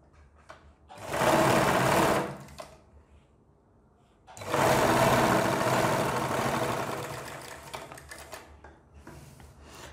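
A sewing machine stitches kurti fabric in two steady runs, a rapid, even needle chatter that starts, stops for about two seconds, then resumes, close and clear with no talking.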